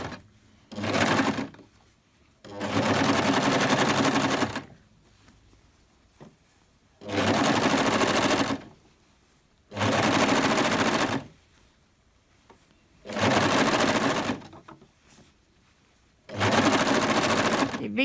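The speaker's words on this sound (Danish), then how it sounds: "Så hjælper overlockeren med at transportere stoffet ind under ribben." An overlock sewing machine stitches sweatshirt fabric and ribbing in bursts: six loud whirring runs of one to two seconds each, separated by quiet pauses, close up.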